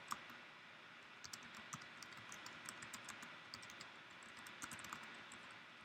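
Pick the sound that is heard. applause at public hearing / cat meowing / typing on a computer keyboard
typing on a computer keyboard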